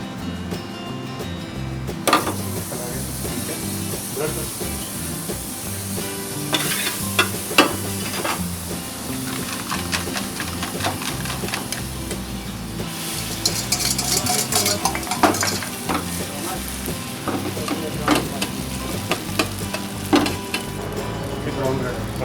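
Creamy malai chicken fries on a busy Delhi street-stall omelette griddle, sizzling loudly and steadily while a spatula scrapes and clatters against the metal in irregular bursts throughout.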